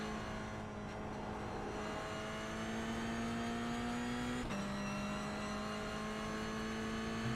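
A Toyota GR86 Cup race car engine in a racing video game drones at steady revs, pitch climbing slightly then stepping down with a gear shift before holding again, continuous and moderately quiet with no talk.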